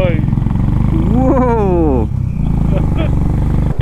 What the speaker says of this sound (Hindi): अब मजे आ रहे हैं बाइक चलाने में।